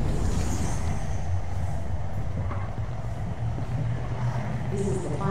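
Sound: train arriving at final stop in the video game Concluse

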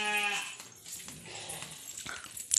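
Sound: sheep bleating

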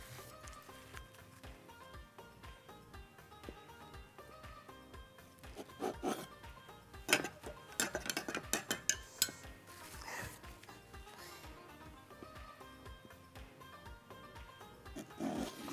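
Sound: knife cutting vanilla gateau

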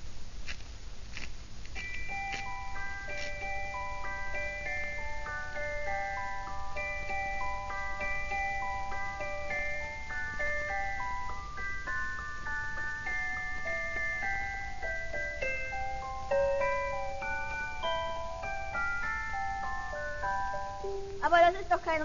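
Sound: wind-up music box playing a melody

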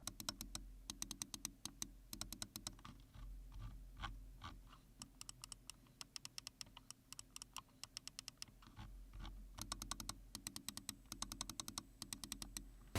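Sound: computer mouse button clicking

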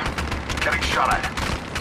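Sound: gunfire from the video game Apex Legends Mobile

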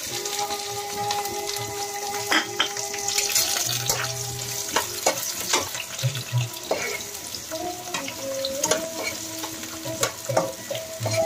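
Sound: chopped onion frying in mutton fat

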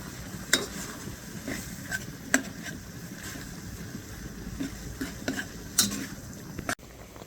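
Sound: stirring minced fish in a pan until cooked

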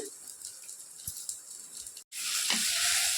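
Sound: dried red chillies and asafoetida frying in a pan

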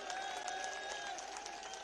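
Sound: audience applause cheering the team

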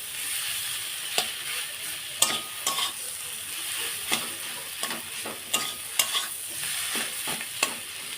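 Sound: frying potato filling in a pan

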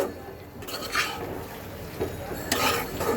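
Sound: stirring Malabar spinach leaves in a cooking pan

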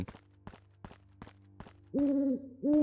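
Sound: owl hooting in the horror video game Evil Crow

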